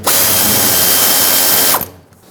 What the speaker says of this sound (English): You can use an 8mm socket and loosen them all up.